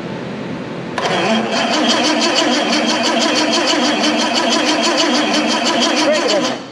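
A Bentley Turbo R engine, leaking oil, cranks over with a rapid, rhythmic starter chug that starts abruptly after a second of quiet and continues loudly and close for several seconds before cutting off.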